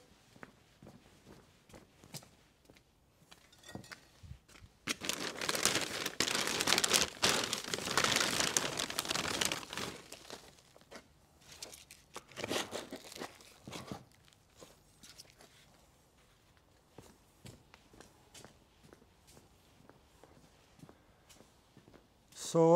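Bonsai compost mix crunches and rustles as it is scooped and handled, with a loud dense stretch of gritty crumbling midway and lighter scrapes and rustles around it, close by.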